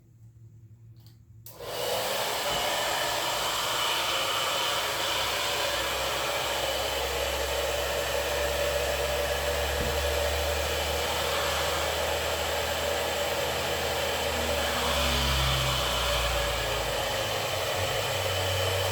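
A hair dryer with a diffuser attachment switches on and runs as a loud, steady broadband whoosh with a low motor hum, close and continuous after a brief quiet start.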